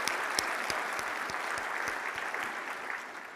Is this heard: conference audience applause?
yes